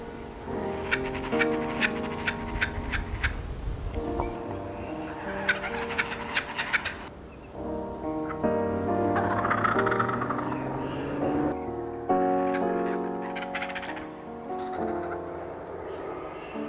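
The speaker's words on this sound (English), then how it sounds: "You can hear the babies chirping away." Baby kookaburras chirp close by in repeated nasal, wavering calls, some in quick bursts and others drawn out, overlapping with short breaks across the stretch.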